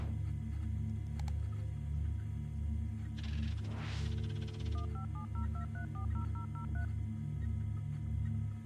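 Phone dialing in the video game No Players Online: a series of quick electronic dial tones in a steady rhythm, preceded by a rising sweep, heard over a constant low hum and background noise.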